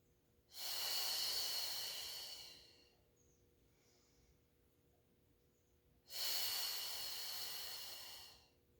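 Two long, forceful breaths during a Pilates mat exercise, each a loud airy rush lasting about two seconds, separated by a quiet pause, close to the microphone.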